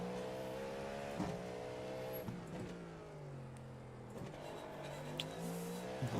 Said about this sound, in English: Downshift was at a bad time.